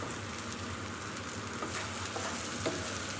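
Ginger paste and chopped garlic sizzle in oil in a frying pan, a dense, even crackle close by with a few faint spatters, no voices.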